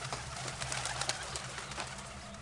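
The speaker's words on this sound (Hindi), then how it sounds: "और कबूतरों का बसेरा" Pigeons coo inside a stone stepwell, Agrasen ki Baoli, soft repeated throaty calls echoing under a steady background hum, with no talking.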